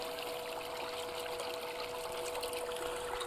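Water flows steadily through a recirculating gold sluice, a close, constant trickling rush with a pump-like hum and no talking.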